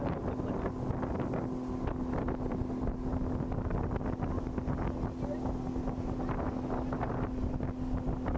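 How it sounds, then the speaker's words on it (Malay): Strong wind roars steadily across the microphone at a floating market on Pulau Sri Tanjung, a constant loud buffeting rush with a low hum beneath it and no breaks. "sedap lah angin berangin kuat"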